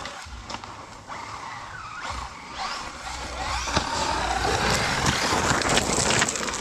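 A Super Lasernut 8s RC car races over rough, extreme terrain, its motor whining and rising as it accelerates, with gravelly skids and tire scrabbling building in loudness toward the end.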